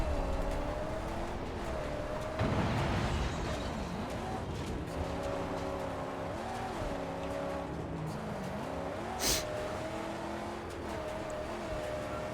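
A car engine drones steadily with rising and falling revs while driving in the Mad Max video game, loud and continuous, with a sharp crash or impact near the end.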